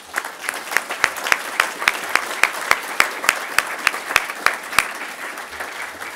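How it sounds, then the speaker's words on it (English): A small audience at an open source in education awards event gives a sparse round of applause, individual claps ringing out clearly in a quick uneven rhythm with no voices over it. "So can we please have a round of applause?"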